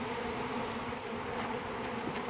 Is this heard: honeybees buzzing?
yes